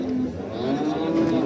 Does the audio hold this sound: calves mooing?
yes